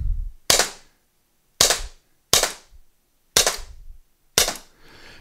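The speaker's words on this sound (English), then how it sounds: "that was 8 rounds downrange" An Umarex T4E Walther PPQ pepperball launcher fires five sharp, loud pops at irregular intervals, each one a crisp crack that fades quickly with a short tail in between.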